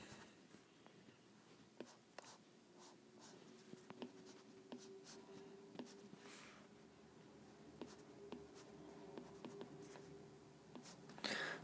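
A pen scratches and taps across paper as a chemistry molecule is drawn by hand, quiet, close strokes in an irregular rhythm with short pauses between them.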